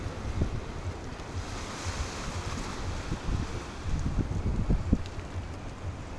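Sea waves break along the embankment at Anapa while gusty wind buffets the microphone, a continuous surf wash with irregular thumps and no speech.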